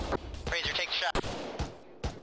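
Rifle fire in ArmA 3 during a co-op rescue mission against a technical: several sharp gunshots cracking at irregular intervals over engine rumble and brief radio chatter.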